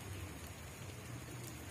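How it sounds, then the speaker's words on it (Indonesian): Steady hiss of light drizzle falling outdoors, soft and continuous with an even patter and no voices. "Mana lagi cuaca gerimis"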